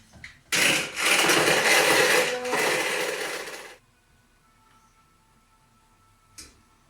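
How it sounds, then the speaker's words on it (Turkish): A hand blender whirs loudly and steadily for about three seconds while blending a Nescafé iced coffee mixture, then cuts off, leaving near silence with a faint click at the end. "Bir el blenderıyla bunu iyice homojenize olana kadar karıştıracağız."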